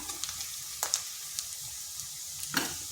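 Food sizzles gently in a pan as it is lightly fried for a flour-based snack, a faint, soft crackle punctuated by a few sharp clicks from stirring.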